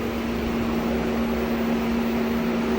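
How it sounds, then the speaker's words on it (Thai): A 24V rooftop air conditioner on a camper van runs with its cooling fan, a steady close whirring drone with a constant low hum, loud and unbroken throughout, with no talking. "แต่นี้เสียงมันรวมพัดลมระบายความร้อนนะครับ"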